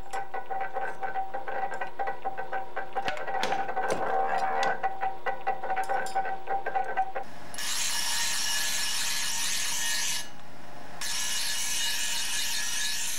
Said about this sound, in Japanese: 中尾の不要な部分を切断します。